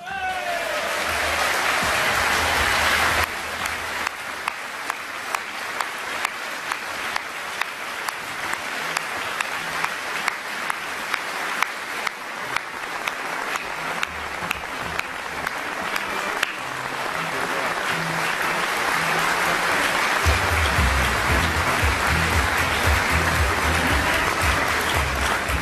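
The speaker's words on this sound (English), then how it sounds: "he deserves huge praise and applause for everything he's done" A conference audience gives a sustained round of applause, dense clapping from a large crowd with a speaker's voice over it at times.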